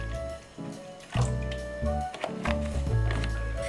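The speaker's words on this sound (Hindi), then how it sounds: "अब इसमें आप पानी ऐड कर दीजिएगा।" Water is poured into freshly strained strawberry juice, giving a close, gurgling liquid fill with short splashy bursts and drips, continuous over several seconds.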